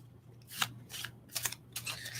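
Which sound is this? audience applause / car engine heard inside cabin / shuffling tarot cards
shuffling tarot cards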